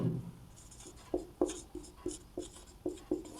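Pen strokes scratch on paper while a maths problem is worked out in a class 12 lesson: quiet, close-up writing in irregular short bursts with brief pauses between strokes.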